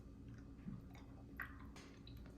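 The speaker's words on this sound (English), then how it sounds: "It took too long to chew." A hard French candy is chewed close up, with soft, wet crunching and squishing in irregular bursts and a couple of sharper bites standing out over low background hum.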